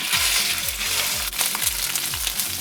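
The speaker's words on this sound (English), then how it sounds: "And I'm going to add the mild Italian sausage" Mild Italian sausage sizzles and fries steadily in olive oil in a pan, a dense continuous crackle with a low rhythmic scraping pattern repeating underneath, close and fairly loud with no talking.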